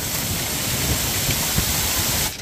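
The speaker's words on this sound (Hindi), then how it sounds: "ये देखे बर्फबारी है, ओले पड़ रही हैं, ओले।" Heavy rain with hail pouring down outdoors, a dense, loud, continuous hiss with scattered low patters and thumps, ending abruptly.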